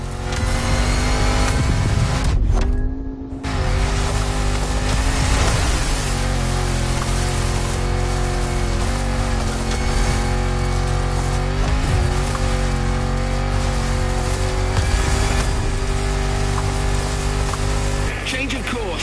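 A Land Rover Defender with 400 horsepower under a 70-year-old-style bonnet drives in the racing game The Crew Motorfest. Its engine makes a loud, continuous drone that rises and falls in pitch, while a voice talks over it.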